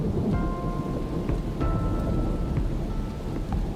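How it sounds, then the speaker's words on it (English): A thunderstorm lashes the Australian bush with heavy, steady rain, a dense continuous roar broken by low rumbles of thunder, close and loud throughout. "Until, that is, the rain just gets to be a bit too much."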